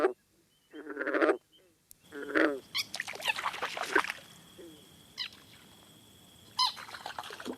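A green frog gives short, thin squeaking warning calls, repeated several times as it jumps off a log, played back from a recording with a faint background hiss.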